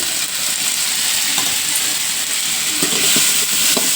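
Potatoes frying in oil in a pan, a steady faint sizzle with occasional soft stirring clicks, close and continuous with no voices.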